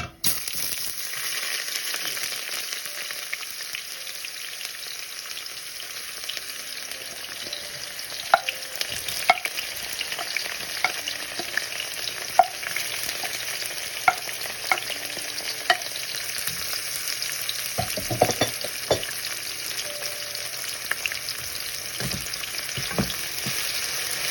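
Chicken liver with chopped onion frying in a pan, a dense continuous sizzle with scattered clicks and scrapes from stirring, and no talking.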